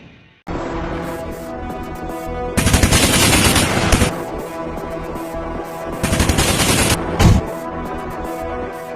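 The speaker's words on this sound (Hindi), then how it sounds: "पाकिस्तानी पोस्ट से सिर्फ 150 मीटर दूर रात का अंधेरा, गोलियों की बौछार" Heavy gunfire at night near a border post: sustained machine-gun bursts crackle loudly, swelling into dense rapid volleys, with no voices.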